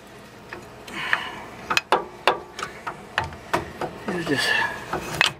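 A ratchet works on bolts on a C3 Corvette U-joint, giving a string of close, sharp clicks and scraping strokes at an uneven pace, with a few quiet spoken words.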